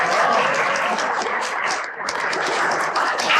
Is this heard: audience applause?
yes